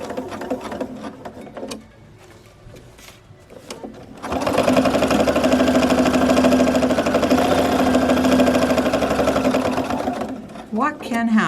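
Sewing machine stitching a pocket on a bag, running steadily and loudly for several seconds after a quieter stretch of fabric handling and light clicks, then stopping abruptly as a voice begins speaking.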